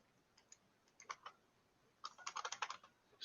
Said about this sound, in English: am I typing